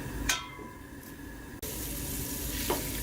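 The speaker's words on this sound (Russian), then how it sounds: "Так, у нас маргарин уже почти весь растаял." Margarine melting in a pan over a stove burner, a soft, steady sizzle close by, with a couple of faint clinks and a short break before the hiss resumes.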